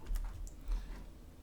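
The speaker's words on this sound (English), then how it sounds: "hit Q on the keyboard" Keys tapped on a computer keyboard while working in Maya 3D car modeling software, a few quick, soft clicks close by with no talking.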